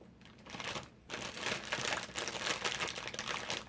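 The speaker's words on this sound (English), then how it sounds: "Sorry about all the crinkling." Crinkly plastic packaging rustles and crackles up close in bursts, with a brief pause before louder, busier crinkling resumes and continues.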